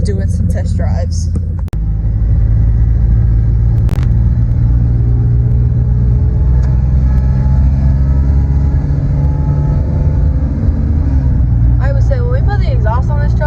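Ford F150 pickup truck idling with a deep, steady exhaust rumble, loud and continuous, while people talk over it.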